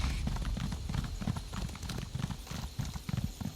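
A galloping horse's hooves pound out a clear, regular clip-clop rhythm in The Elder Scrolls Online: High Isle, close and prominent, with no voices present.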